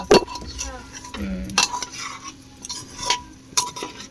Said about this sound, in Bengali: আজকে তো চালগুলো একটু মিশিয়ে নেবো সবজির সঙ্গে